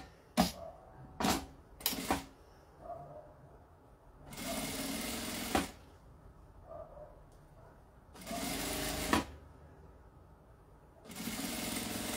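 A sewing machine stitches bias binding onto a zipper for a toiletry case, running in short bursts of a second or so between pauses and quiet handling sounds, fairly close and moderate in loudness.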